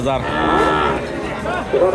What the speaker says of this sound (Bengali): গাভি বাছুর দেখানোর চেষ্টায় রয়েছে সোনাইচন্ডী হাটে